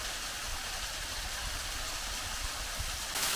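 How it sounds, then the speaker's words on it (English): Walden Creek Falls near Dahlonega, Georgia, gives a continuous broadband rush of falling water, steady and fairly loud throughout with no voices, growing slightly brighter at the very end. "That's a beautiful waterfall."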